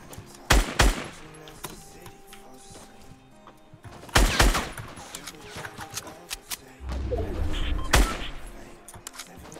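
Fortnite gunfire arrives as a few sharp, loud shot bursts separated by quieter gaps, with distant pops and game ambience in between and a voice speaking during the clip.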